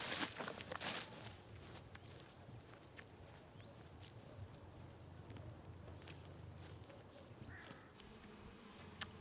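Honeybees working around a rural apiary of five traditional hives and a small log hive in Lozère, heard as a soft, continuous, fairly distant buzzing hum with a few louder knocks at the start.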